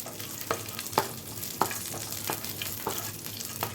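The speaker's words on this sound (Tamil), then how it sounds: "பாருங்கள், நம்ம முந்திரி உலர் திராட்சையும் நல்லா வறுபட்டுருச்சு." Cashews and raisins fry in hot ghee with a steady close sizzle, broken by a regular run of sharp spatula scrapes and stirring knocks, with no voices.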